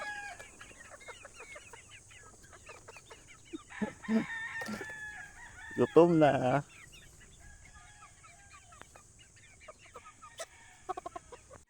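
Chickens cluck and a rooster crows as they trail behind someone carrying their feeder on a gamefowl farm. The calls are scattered and fairly close, with a busier burst midway and a brief spoken remark.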